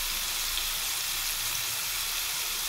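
Jackfruit pieces fry in hot oil with turmeric, a steady close sizzle of broadband crackling that holds an even level throughout.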